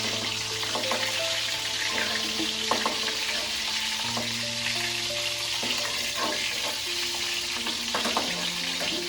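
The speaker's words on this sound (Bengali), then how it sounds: "পটলটা আবার ভাজা সম্পূর্ণ" Pointed gourd (potol) frying in a pan, a dense steady sizzle with occasional stirring scrapes and a low hum running beneath it throughout.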